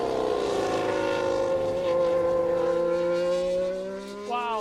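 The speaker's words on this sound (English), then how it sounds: "the sound of an F1 engine is just magical" A McLaren Formula One car engine, loud and close, holding a steady, strongly tonal whine that sags slightly in pitch, then shifts near the end as it pulls away.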